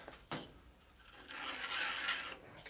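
A hand file rasps through a hole in a part from a 1983 Harley FLTC 80ci shovelhead engine, one short stroke followed by a longer, louder scraping pass, close and alone.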